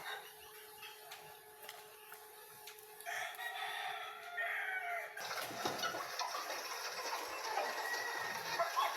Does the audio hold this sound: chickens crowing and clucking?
yes